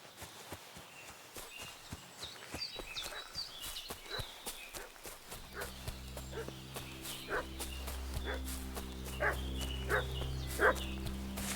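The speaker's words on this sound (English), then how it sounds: "What's that dog making such a fuss about?" A dog barks repeatedly at a distance in the medieval village world of Kingdom Come Deliverance 2. The sharp barks are irregular and fairly faint, over the steady clip-clop of a horse walking and some ambient noise.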